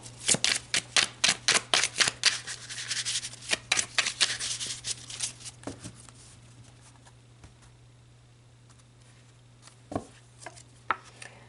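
Tarot cards are shuffled up close in a rapid run of crisp riffling snaps for several seconds, then scattered softer taps and slides as cards are set down, with a steady low hum underneath.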